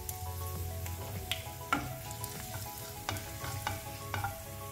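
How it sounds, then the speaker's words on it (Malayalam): Mustard seeds and green chillies sizzle and pop in hot oil for a Kerala-style chickpea thoran, a steady close frying hiss broken by sharp crackles and faint stirring clinks, with no voices. "ഓയിൽ ചൂടായിട്ടുണ്ട്, അതിലേക്ക് 1 ടേബിൾ സ്പൂൺ കടുകിട്ട് കൊടുക്കാം"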